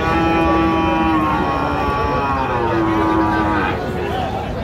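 Cattle lowing with long, drawn-out moos at a livestock market in Cumilla, over a busy, noisy crowd backdrop, fairly loud and close.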